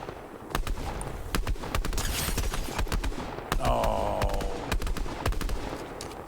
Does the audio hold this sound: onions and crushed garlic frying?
no